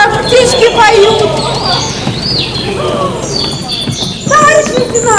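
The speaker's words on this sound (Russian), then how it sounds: "Хорошо-то как, птички поют!" Chirping birds call and sing over bustling voices and movement during a rest halt in a stage play, the bird sounds mixing with loud human activity close by.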